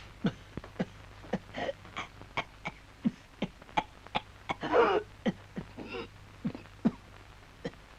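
In a Turkish film scene, a person coughs repeatedly in a rapid series of sharp, close bursts with raspy, throat-clearing sounds between them.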